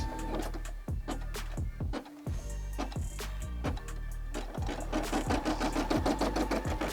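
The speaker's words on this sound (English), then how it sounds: "we are going to go ahead and start embroidering" A Brother SE600 embroidery machine stitches a design with a steady, rapid mechanical chatter of needle strokes, loud and close, with a brief pause near the two-second mark before it resumes.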